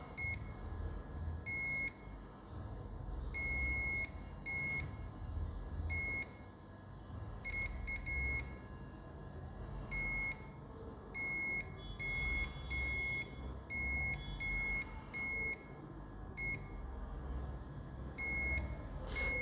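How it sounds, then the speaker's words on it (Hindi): A multimeter gives repeated short continuity beeps while probing a capacitor on a Samsung F23/M23 phone board, intermittent high tones over a low background hum. "देखिए इस वाले कैपेसिटर पे बोथ साइड में बीप आ रहा है।"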